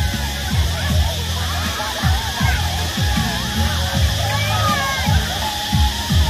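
Water rushes and sloshes steadily at Tà Má stream, with busy crowd chatter and voices underneath throughout.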